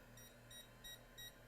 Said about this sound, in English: end of that short is beeping to indicate that we have a short